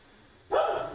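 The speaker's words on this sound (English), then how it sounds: "You can hear the dogs." A dog barks once, a single short burst after half a second of quiet background hum, moderately loud at middle distance.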